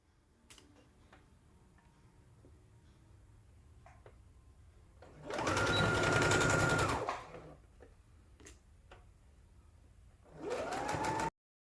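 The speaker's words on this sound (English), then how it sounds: "So you just want to stitch down right here, 3/8 of an inch seam allowance." A sewing machine stitches a 3/8-inch seam on a dress facing in two loud, rapid bursts, separated by quiet stretches with faint clicks and handling noise.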